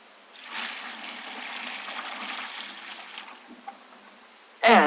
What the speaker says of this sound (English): once you pour a glass of water